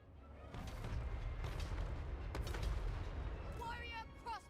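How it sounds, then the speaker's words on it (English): Cannon fire in a Total War: Warhammer 3 battle, heavy booming blasts and rumbling impacts layered over battlefield din, with someone talking briefly near the end. "Well, cannons are doing a decent enough job."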